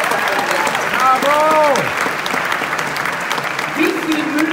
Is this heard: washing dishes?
no